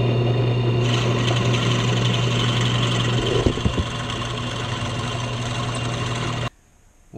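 A drill bores straight holes through wooden pen blanks for a first turned pen, its motor a loud, steady whine with a grinding edge that runs without a break and then cuts off abruptly near the end.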